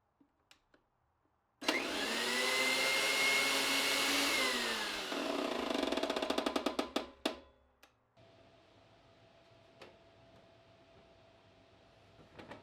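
A woodworking planer in a garage runs with its blade cover off, a loud steady whir for several seconds that drops in pitch, followed by a burst of rapid ratcheting clicks from its gears, then a quieter hum.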